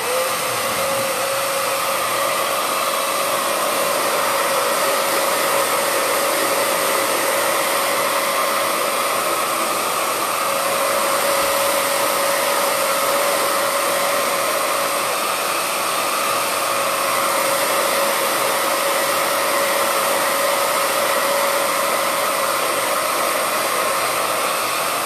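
A hair dryer runs steadily on high while drying a bitumen patina on wooden crates, a loud, unbroken whooshing roar with a constant motor whine, alone for the whole stretch.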